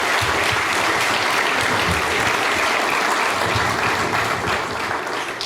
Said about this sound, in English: Another round of applause for our speaker, Royce Gracie.